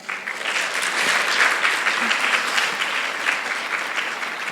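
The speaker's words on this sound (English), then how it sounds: "can I get a round of applause for the star of tonight?" An audience at a Bharatanatyam arangetram claps loudly and steadily, a dense wash of applause that stays full throughout with a faint hint of voices beneath.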